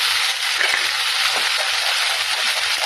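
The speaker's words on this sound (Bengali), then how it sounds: "বাটা মশলাগুলো আমি কষিয়ে নেবো।" A ground spice paste fries in a little oil for a bottle gourd dish made without onion or garlic, giving a dense, even crackle and hiss that continues without pause and with no voices.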